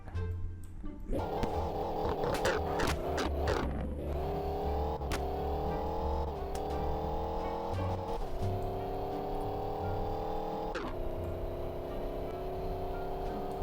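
A Ford car engine in neutral gear gets a few quick, sharp revs, then settles into a steady raised hum, heard up close.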